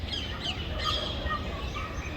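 Pigeons call outdoors in a short, fairly loud burst of cooing and chirping notes over steady background noise, with no talk.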